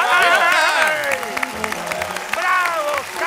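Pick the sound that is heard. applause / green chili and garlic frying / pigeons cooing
applause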